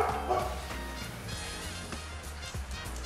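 A dog barks a few times at moderate distance, short yips over a constant low engine-like hum.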